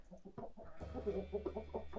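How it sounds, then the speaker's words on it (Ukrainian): A rooster clucks and murmurs in short repeated calls, close by, over a low steady background hum. "Ось такий у нас півник"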